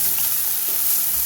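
Onion for chicken curry fries in a hot pan and gives a steady, close, even sizzle with no talking.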